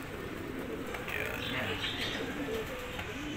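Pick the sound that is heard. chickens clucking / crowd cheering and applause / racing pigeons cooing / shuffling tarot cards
racing pigeons cooing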